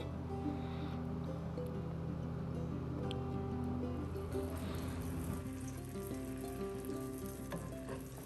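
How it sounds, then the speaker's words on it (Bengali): Chicken pieces frying in a pan for Mexican mole chicken, turned over partway: a constant bubbling sizzle with a faint shift as the pieces flip, steady and close, no voices. "এক পাশ লাইট ব্রাউন করে ভেজে অন্য পাশটা উল্টিয়ে দিচ্ছি"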